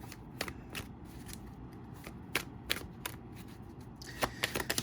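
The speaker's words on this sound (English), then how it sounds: "let's just go ahead and do a quick shuffle" Tarot cards are shuffled by hand at close range, giving irregular crisp riffling snaps and soft slides over a low steady background hum, with a quick flurry of taps near the end.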